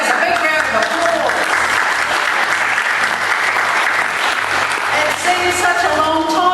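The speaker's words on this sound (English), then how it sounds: "Give ourselves a big round of applause." An audience at a welcome event for international students in Hastings, New Zealand claps in a steady, dense round of applause that runs loud and unbroken for the whole stretch.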